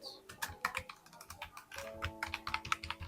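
Rapid, irregular keystrokes on a computer keyboard as a prompt is typed into an AI chatbot, close and crisp with no voices over them.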